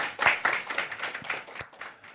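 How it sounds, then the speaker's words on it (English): Audience at a startup pitch conference applauding, a steady run of close, fairly quiet hand claps that thin out toward the end. "Yes, round of applause."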